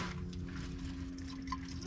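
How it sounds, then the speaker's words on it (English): Coolant pours into the cooling system of a 1993 Ford Bronco during a heater core replacement, a steady close liquid gurgle running through the short moment with no talk. "Add a little coolant here."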